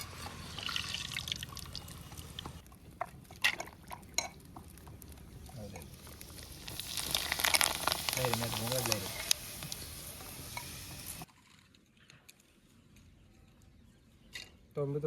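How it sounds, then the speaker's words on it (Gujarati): Potato bhungra fry in a pan of oil, giving a hissing, bubbling sizzle with stirring scrapes and clinks. Voices can be heard in the background, and near the end the frying drops to a quiet lull. "તો મિત્રો આપણે ભૂંગળા તળી રહ્યા છીએ."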